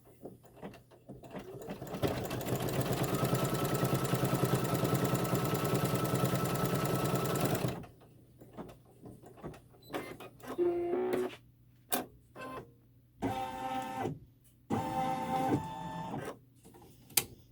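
A sewing machine stitches down a quilt block, running in a steady loud burst of about six seconds, then giving several shorter start-stop runs separated by pauses.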